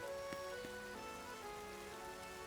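Rain falls steadily in a Pokémon Legends Z-A game scene, a soft continuous patter mixed with music-like tonal layers, moderately faint and without talk.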